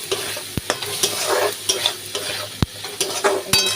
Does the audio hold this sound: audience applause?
no